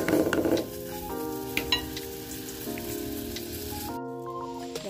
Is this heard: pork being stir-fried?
yes